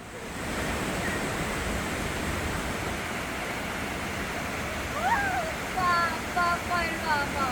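A waterfall in a columnar-jointed basalt gorge in Yeoncheon gives off a steady, broadband rush. Faint bird chirps enter near the end.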